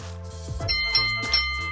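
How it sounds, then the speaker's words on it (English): A bell effect marking a bold prediction on a live sports talk show, a short run of bright ringing ding-dong chimes heard clearly on their own with no talking. "We use what we call the bold enough bell"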